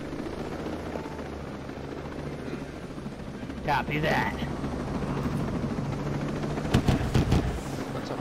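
Helicopter in a video game, a steady rotor drone filling the scene with some gunfire-like bursts near the end, while a voice briefly talks over it.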